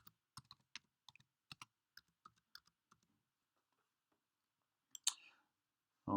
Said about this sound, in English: I'm going to type in here the password that the school